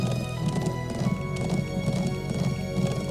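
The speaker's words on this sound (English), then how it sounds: "this is as fast as this fucking horse goes" Galloping horse hooves in the video game Trails of Cold Steel, a steady fast clip-clop rhythm running continuously over dense game music and ambience.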